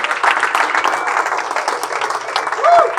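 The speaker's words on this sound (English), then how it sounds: "Let's say with a round of applause for John." Audience clapping for a speaker at a gala anniversary celebration, steady and fairly close for three seconds, with voices and a brief whoop mixed in.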